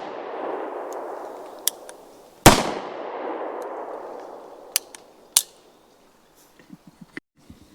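A single loud 9mm shot from a Bond Arms Texas Defender derringer cracks outdoors and rolls away in a long echo, surrounded by scattered sharp clicks and clanks from handling the pistol.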